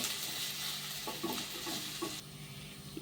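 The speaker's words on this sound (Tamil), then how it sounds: "வெங்காயம் லைட் ப்ரௌனிஷ் ஆகிற வரைக்கும் வதக்கி எடுத்துக்கோங்க." Onions sautéing in a pan for chilli chapati give off a steady, close sizzle, and a few soft stirring scrapes break through near the middle. The frying hiss thins out toward the end.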